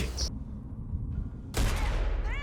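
Gunfire in The Last of Us Part 2 video game: a loud burst of shots, then a quieter stretch, then another loud blast with a rising tonal sound at the end.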